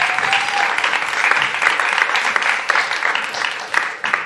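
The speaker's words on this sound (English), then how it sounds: "Can we give a round of applause for that and recognize that?" An audience at a premiere event gives a sustained, loud round of applause that stays dense and continuous throughout, with a few louder claps standing out near the end.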